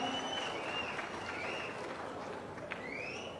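A large audience claps together at a public meeting, a dense, steady patter of many hands holding at even loudness throughout, with faint whistle-like tones drifting over the crowd.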